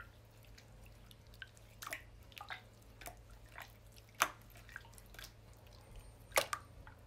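Fake-water slime, chocolate-brown, slightly tacky and stretchy, being squished and pulled, giving scattered wet drips and soft squelches against a quiet steady background hum.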